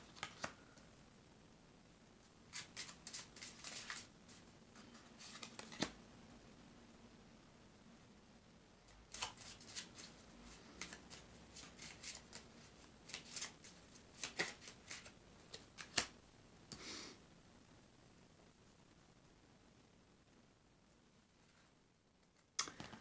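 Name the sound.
shuffling tarot cards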